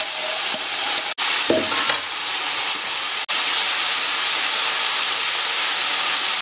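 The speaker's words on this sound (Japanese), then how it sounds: "そこに先ほど油でコーティングしたもやしを入れます" Bean sprouts coated in oil sizzle loudly in a frying pan over medium heat, a steady close hiss of stir-frying broken briefly by a couple of short drops in sound.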